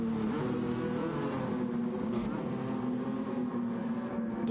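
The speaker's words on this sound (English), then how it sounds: "One thing's for sure about the Stratos, it has a beautiful engine noise." A Lancia Stratos engine in Gran Turismo 7 holds a loud, steady, buzzy rev during an endurance race, continuous throughout with a commentator talking over it.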